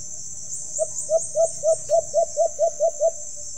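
A dove decoy call used for hunting alimukon gives ten evenly spaced soft hoots, each a short cooing note, steady and fairly close over a continuous high hiss of insects.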